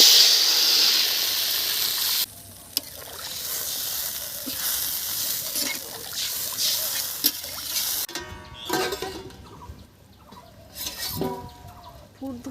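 Potato curry with salt, turmeric and chilli bubbles and sizzles in a pan as it comes to a boil, a steady close hiss that drops back partway, with brief stirring and utensil clinks near the end.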